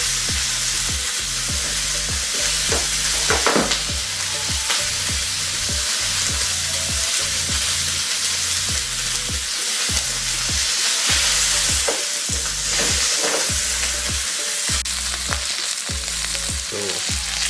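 Steak frying in a lightly oiled pan, giving a loud, continuous sizzle and crackle that holds steady throughout with no voices over it.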